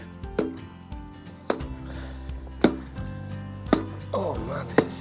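A sledgehammer strikes thick ice on a water trough in cold farm weather, five sharp loud cracking thuds spaced about a second apart with splintering between blows.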